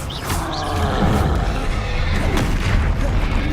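An Expelliarmus spell goes off in Hogwarts Legacy, a loud, dense burst of booming, whooshing magical energy that rumbles on continuously for several seconds.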